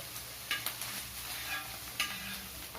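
Paneer pieces sizzle softly in a pan while being turned, with a steady frying hiss broken by a few light scraping clicks from the spatula.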